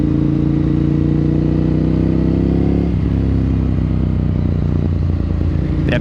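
A Yamaha MT-09 motorcycle engine roars close and loud, rising steadily in a revving brap with the clutch pulled in, then dropping back to a rough, clattering idle that continues alone.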